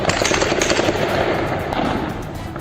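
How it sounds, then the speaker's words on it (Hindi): Rapid bursts of automatic gunfire from security forces firing on protesters in Iran, dense and loud, crackling continuously across the short stretch with no voices. "खामेनेई की फोर्स जितनी गोली चला रही है, लोगों के गुस्से की आग और भड़क रही है।"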